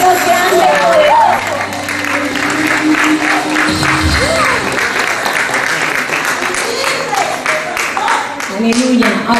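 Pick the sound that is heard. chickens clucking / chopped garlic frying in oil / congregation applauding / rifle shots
congregation applauding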